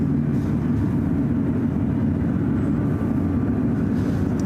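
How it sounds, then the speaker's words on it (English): Steady, loud low rumble from a Delta Boeing 767-300ER pushing back at San Francisco airport, a constant heavy engine drone with no breaks, nearby and alone with no voices. "Have a Delta 767 now pushing back."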